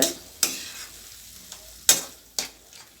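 Cooked eggplant gosthu mashed and stirred in a pot, with a few sharp scraping and squelching strokes spaced irregularly, close and clear, without any talking.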